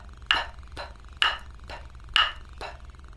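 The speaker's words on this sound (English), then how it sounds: "So I'm going to beat those out with a wood block and a beater." A wooden block struck with a beater in a steady beat, six crisp, fairly faint clicks spaced about half a second apart, every other one slightly stronger, with no voice over them.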